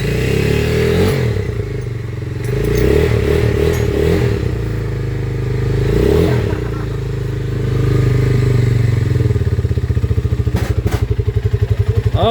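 A Rusi Mojo 200cc motorcycle, freshly repaired with a new countershaft and pilot bearing, runs close by with a rumbling idle and revs rising and falling, mechanical clatter over it, then a quicker ticking pulse toward the end.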